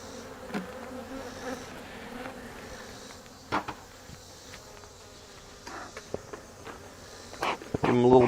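Honey bees buzz around a hive box, a soft continuous droning hum with occasional close fly-bys, mixed with faint knocks and footsteps and a brief voice near the end.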